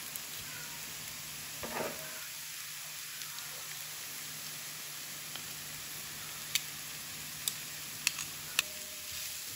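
Onion with a clove of garlic softening in a pan without browning, a faint steady sizzle with a brief stir near the start and a few sharp ticks later on.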